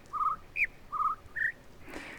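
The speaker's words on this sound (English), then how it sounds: "So, yeah, hello birds." Birds call in The Witness video game, four clear chirping calls in an alternating low-high pattern, evenly spaced, followed by a soft rustling hiss; no speech.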